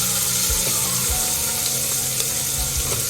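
Roughly chopped onion sizzling in a hot pan, a steady close hiss with a few soft bumps from the pan.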